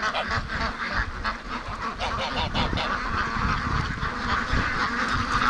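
A goose honks repeatedly among a flock of free-range ducks, loud and close, with overlapping quacks and honks forming a continuous busy chorus and no talking.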